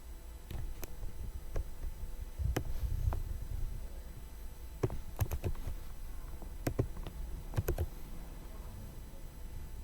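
Typing on a computer keyboard during a Linux terminal session, scattered clicks and short bursts of keystrokes at an irregular pace, close and fairly quiet.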